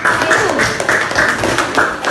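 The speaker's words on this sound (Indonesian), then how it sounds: "Beri tepuk tangan kelompok 1 sampai itu." An elementary school classroom in Indonesia breaks into children's clapping for the first group, a steady patter of many hands at a lively rhythm with a voice in the room alongside.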